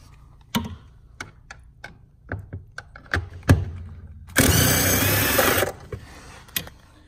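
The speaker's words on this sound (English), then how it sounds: "Takes a 10mm deep socket to remove, and then the pedal assembly will come right out." Nuts on a Fiat 500 pedal assembly worked with a 10mm deep socket, scattered sharp clicks and knocks followed by a loud continuous whir of a power tool lasting over a second, close.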